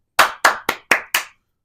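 Five sharp hand claps in a quick, slightly uneven rhythm, close and loud, with no other sound around them.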